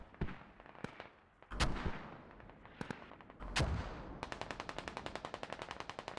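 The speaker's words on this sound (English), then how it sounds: "I'm just interested in seeing where these mortars fall" Mortar fire and explosions in a military video game: scattered booms and heavy blasts, then a fast, regular burst of automatic gunfire toward the end, with no voices.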